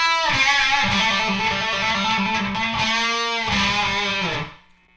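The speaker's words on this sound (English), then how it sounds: "So that last half of the solo kind of goes like this" Distorted electric guitar plays the second half of the solo from a punk song, sustained bent notes and strummed chords ringing loud and close before cutting off near the end.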